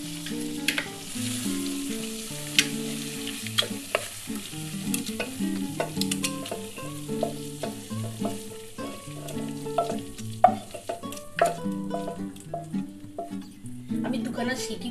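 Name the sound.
mutton curry sizzling in a pressure cooker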